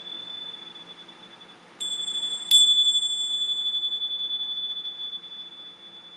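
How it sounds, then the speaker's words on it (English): A small bell is struck, ringing out in a clear, sustained high tone that slowly fades, heard alone in a quiet room with no talking. "I'm going to ring a different bell for this."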